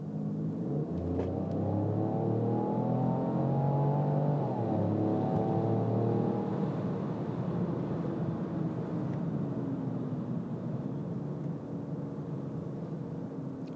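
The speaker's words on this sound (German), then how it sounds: "Im Sportmodus gibt es tatsächlich einen aktiven Soundaktuator, der dann das Ansauggeräusch verstärkt" A Peugeot 208 PureTech 130 Allure GT-Line in sport mode, its active sound actuator amplifying intake noise, accelerates hard through several gears, loud rising engine drone with shifts and a steady high-speed roar afterward, no voices.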